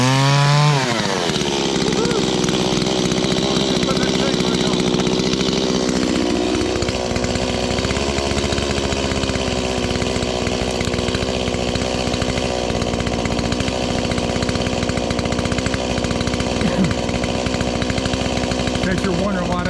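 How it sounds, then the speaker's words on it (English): A Stihl 500i and a Stihl MS170 with a modified muffler cut through a blown-down hemlock. A loud, sustained chainsaw engine drones near and steady after a rising rev at the start. "In case you're wondering why that 170 sounds so tough, I give me a little muffler mod to it."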